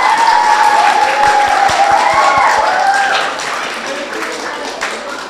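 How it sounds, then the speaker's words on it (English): Audience at a Year 6 school celebration gives a brief, moderate round of clapping, steady at first then tapering off, with a voice carrying faintly over it. "Let's give them a little clap."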